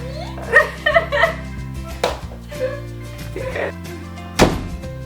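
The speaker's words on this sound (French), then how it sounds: "c'est une porte, hein, t'es obligé de la claquer comme ça." A door slammed hard indoors, giving a loud sharp thud near the end, amid other household knocks and thumps with background voices and music.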